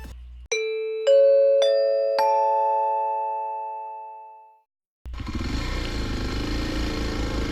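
A motorcycle is ridden after a battery replacement: four descending chime tones ring out first, then a loud, steady engine and wind roar fills the last few seconds.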